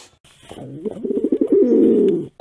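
A roughly twelve-day-old pet pigeon chick gives a run of soft, rapid, wavering coos and peeping calls, close and clear, building into a sustained quavering sound before cutting off.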